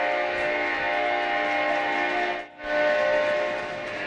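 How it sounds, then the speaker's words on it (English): Freight train sound effect at a high school hockey game: a sustained, loud, horn-like tone that drops out briefly, then resumes. "That's actually the right sound for Kevin right there, the freight train."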